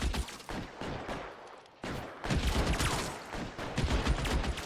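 Rapid bursts of gunfire crackle in the LA Noire video game, a loud, dense run of overlapping shots with a brief break midway before the firing resumes.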